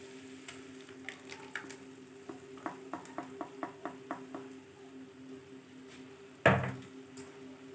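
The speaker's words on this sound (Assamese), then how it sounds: "এইখিনি মই 10 মিনিট ভাজি লম।" Spice paste for coconut fish curry frying in a pan: a soft sizzle under a series of regular spatula taps and scrapes, then one loud clanking knock near the end.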